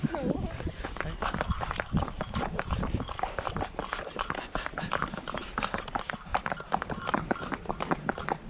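Hooves of a horse on a mountain ride near Pahalgam clop along steadily in a quick rhythmic patter, close by, while people talk over them.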